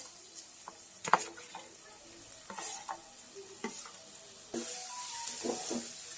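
Chopped onion going into a pan of garlic and chili being sautéed, with scattered clicks and scrapes of stirring and a soft sizzle that grows louder and steadier toward the end; no talking.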